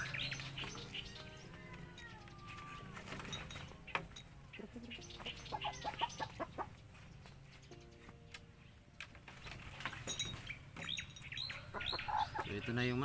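Shamo hens cluck and squawk in short bursts amid clattering and background noise, fairly close, with some faint voices now and then.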